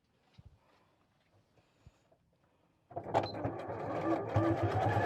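After a few seconds of quiet handling noises, a sewing machine starts up and stitches a bag lining seam, a dense, steady whirr that stays close and loud to the end.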